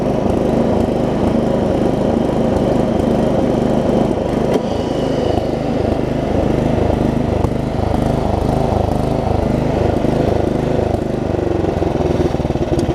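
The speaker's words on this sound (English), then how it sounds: "I mean, it idles down pretty good" A Craftsman Murray rear-engine riding mower idling, a loud, steady, close-up putter with an even pulsing rhythm that holds throughout without revving.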